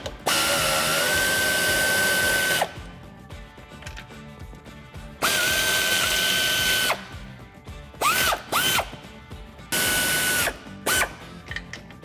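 An air ratchet runs in loud bursts of a few seconds each, loosening the 18mm nuts on a Ford F150 strut assembly, with quieter clicks and pauses between the runs.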